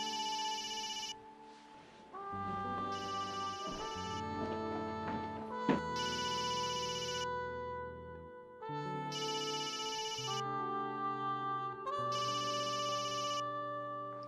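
An incoming call, thought to be from abroad, sets a telephone ringing in bursts of high electronic tone that repeat at steady intervals over soft background music, fairly quiet, with no talking.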